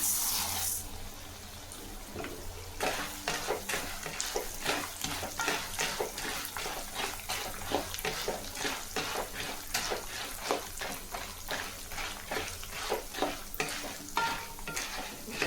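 Chana dal and urad dal roast dry in a pan for temple-style puliyodharai, heard as close, rhythmic scraping and rattling strokes of stirring repeated over and over above a faint sizzle.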